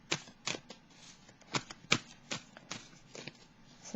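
A deck of tarot cards being shuffled by hand, giving a series of quick, crisp riffles and flicks in an irregular rhythm, close and fairly soft, with no voices.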